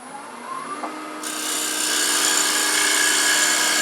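Lathe gouge cutting spinning crepe myrtle wood, a steady high broadband shearing hiss that starts softer and grows fuller and louder after about a second, close and continuous with no talking.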